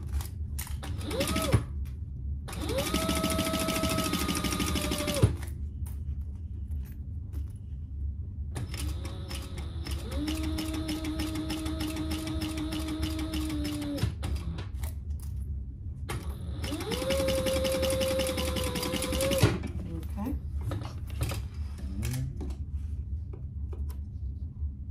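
Sewing machine basting fabric for a wristlet, three close bursts of fast whirring stitching, each a few seconds long, separated by brief pauses with small mechanical clicks.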